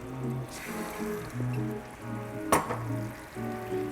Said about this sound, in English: a splash of my cinnamon vanilla extract